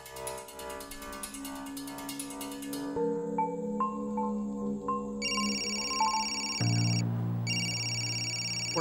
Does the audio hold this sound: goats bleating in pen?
no